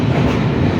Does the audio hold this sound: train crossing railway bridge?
yes